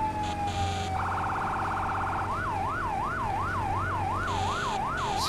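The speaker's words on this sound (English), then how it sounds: "Siren, there we go." A fire truck siren in the video game Firefighting Simulator The Squad starts with a steady tone, switches to a rapid yelp, then settles into a rising and falling wail over a low engine rumble.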